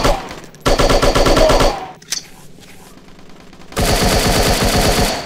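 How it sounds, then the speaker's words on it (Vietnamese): Rapid automatic gunfire in the shooting video game Striker: two loud, sustained bursts of machine-gun fire separated by a short quieter gap with a single sharp shot, close and dominant with almost no talk. "Chúng mình bắn tuyết đạn quá."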